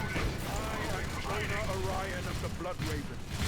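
Gunfire and a flashbang in the Warhammer 40K Dawn of War 3 strategy game, busy crackling shots and a sharp burst amid battle noise, with someone talking over it.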